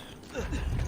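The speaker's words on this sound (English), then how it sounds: "Now we'll open the doors." A heavy door mechanism in the video game Resident Evil 5 starts up with a grinding, creaking mechanical rumble that builds and holds steady through the short moment.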